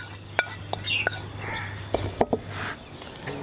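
Spoon mixes cornflour, red chili, fresh garlic, chicken powder, white pepper and salt in a bowl for popcorn chicken breading. Scattered sharp clinks and scraping sound close up, with faint murmured talk underneath.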